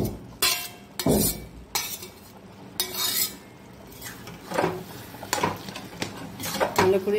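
A vegetarian bottle gourd curry (lau ghonto) stirred in a pan, a metal spoon repeatedly clanking and scraping against the pan in an uneven rhythm, close and fairly loud.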